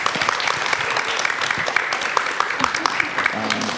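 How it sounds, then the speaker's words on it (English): Dense, steady applause from an audience at an evening library author event honoring Cassandra Khaw and Tara, a continuous wash of many hands clapping close and loud throughout. "So can we give one more round of applause for Cassandra and Tara?"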